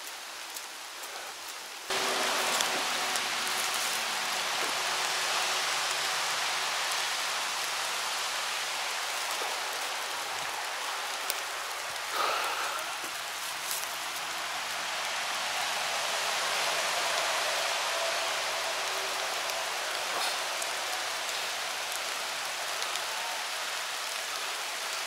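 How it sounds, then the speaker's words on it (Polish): Steady heavy rain pours down outdoors on a mushroom-picking outing, a dense unbroken hiss that swells slightly midway and carries on alone without voices. "zobaczcie, jak pada."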